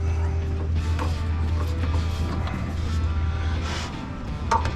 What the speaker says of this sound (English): I'm going to torque that down